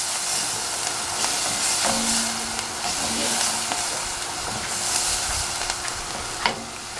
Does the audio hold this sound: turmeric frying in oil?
yes